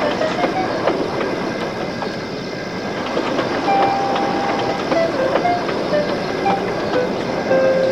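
A train engine starts and runs as a sound effect, with steady rumbling rail noise, rhythmic clicks and short tonal whistle-like notes, heard alone at moderate loudness.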